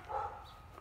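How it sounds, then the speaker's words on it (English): A dog gives a single short bark or yip at moderate distance, then fades into quiet outdoor background at a rural property. "Scaring the crud out of the dogs."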